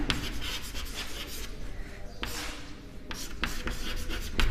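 A marker or chalk writes on a board during a chemistry lesson, producing a close series of scratchy strokes and short squeaks with brief pauses between them, and no talk.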